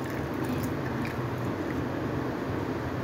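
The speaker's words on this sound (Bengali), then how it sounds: "এখন আমি এটার সাথে পানি দিয়ে দিচ্ছি।" Water stirred into a thick snack batter in a bowl, soft wet squelching and squishing sounds, close and quiet, steady throughout with no talking.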